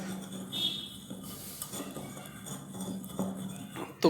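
Ingredients being stirred and mixed together in a bowl, giving soft scraping and clinking of a utensil against the dish close by, with some background noise and a sharper clink at the end.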